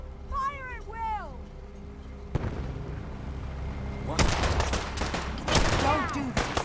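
Gunfire volley in the video game Fallout 4, several overlapping shots erupting after a quieter stretch with calls and chirping sounds, the firing dense and fairly close with voices mixed in.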